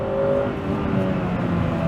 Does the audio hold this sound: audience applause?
no